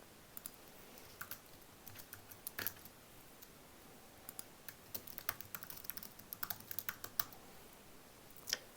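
Typing on a computer keyboard comes as soft, scattered keystrokes in short uneven bursts, quiet and close, with no voice.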